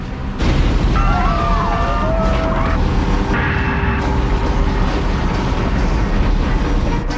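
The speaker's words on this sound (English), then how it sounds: "also hears the plane" A loud, steady roar fills the recording, like a jet passing overhead, with a faint whine rising and falling over the rumble, from a plane spinning out of control in a crash in Queens.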